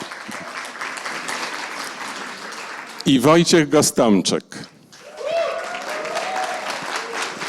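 Audience applause fills a film premiere screening of "The Palace", loud, dense clapping that breaks off while someone speaks over a microphone, then swells back up and continues steadily.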